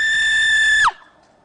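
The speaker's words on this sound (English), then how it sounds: "All he does is scream." A person lets out a single sustained high-pitched scream, loud and close, holding steady before cutting off abruptly and dropping to near silence.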